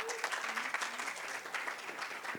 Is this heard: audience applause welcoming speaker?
yes